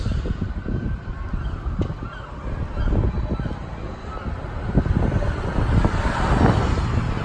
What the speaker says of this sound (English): What is with all these birds?